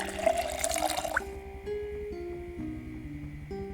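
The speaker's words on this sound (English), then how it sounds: "Fill my water bottle" A water bottle being filled in the Project Zomboid video game: a short gush of running water lasting about a second, followed by soft, steady background music.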